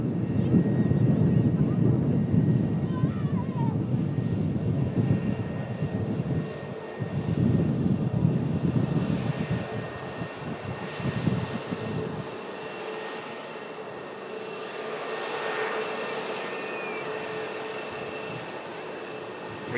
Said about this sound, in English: And it's going to be our next aircraft going to witness touching down.